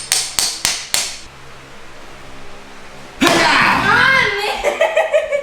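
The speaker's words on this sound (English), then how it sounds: "you don't need to baton it with that hammer" Four sharp metallic hammer strikes in quick succession, batoning a knife through a coconut, then a loud burst of voices and laughter, followed by more rapid tapping blows.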